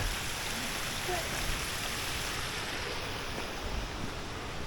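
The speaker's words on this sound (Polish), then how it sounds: "tu wodospad na wodospadzie" Waterfall rushing down a Welsh mountainside near Arenig Fawr after heavy rain, a steady broadband roar of falling water that stays loud and unbroken throughout, with some wind buffeting the microphone.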